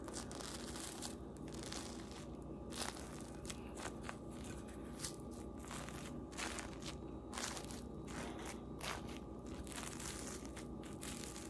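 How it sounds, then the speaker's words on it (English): Someone eating a soufflé omelette up close, with repeated soft crunching and squishy bites at irregular intervals over a steady low background hum. "Souffle omelet ASMR"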